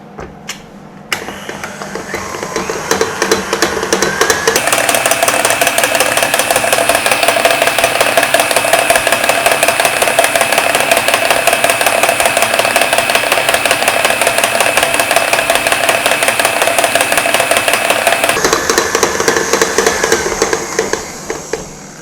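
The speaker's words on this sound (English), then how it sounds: "beat again until the egg is fully incorporated" An electric mixer beats an egg into butter cake batter: a motor starts up, then runs loud and steady with a slight rattle for about fourteen seconds before winding down and stopping.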